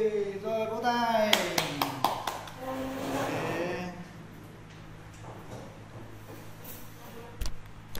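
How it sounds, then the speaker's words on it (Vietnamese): A class of students clapping their hands on cue, a brief burst of sharp, overlapping claps following a teacher's spoken instructions, with talk resuming over a low room hum afterward. "Rồi, vỗ tay."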